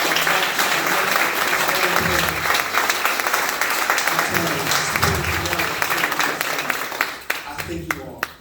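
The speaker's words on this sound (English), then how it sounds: "you gotta give them all a round of applause" An audience applauds in a sustained, dense burst of clapping with some crowd voices and cheers mixed in, loud and close, tapering off near the end.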